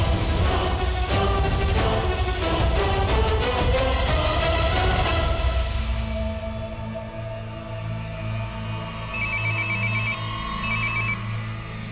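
A telephone rings with repeated electronic trill bursts in a domestic drama scene, at first buried under loud music and then heard as two clear short bursts over a quieter hum.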